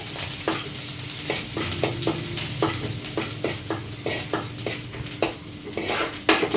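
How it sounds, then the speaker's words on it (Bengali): Chopped garlic and ginger fry in ghee in a separate kadai while a spoon stirs them, a steady sizzle broken by regular scraping strokes against the pan, close and clear with no talking. "রসুন কুচি, আদা কুচি, আচ্ছা এটা একটু নেড়ে চেড়ে"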